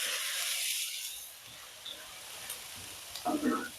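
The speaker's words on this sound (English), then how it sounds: "I like the sizzle." Vegetables sizzle and hiss in a hot pan, loud at first then settling, with a few stirring clinks and scrapes near the end.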